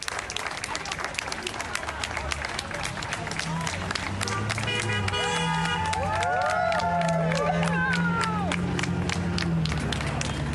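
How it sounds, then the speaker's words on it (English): Outside CDC headquarters in Atlanta, a crowd claps and cheers continuously as workers walk out, with whistles and whoops rising over the sustained applause for about ten seconds, and voices mixed in throughout. "This is the crowd cheering them on."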